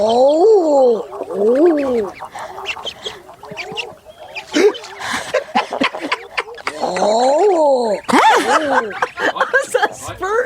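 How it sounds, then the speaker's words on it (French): Recorded calls of the common eider duck, repeated rising-and-falling cooing moans in several bursts, loud and close, with people talking and laughing in between. "On écoute le canard Hébert à duvet."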